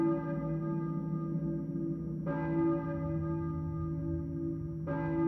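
A church bell in the PS1 game Silent Hill tolls twice, about two and a half seconds apart, each strike ringing out in a long, rich hum that fills the gaps between.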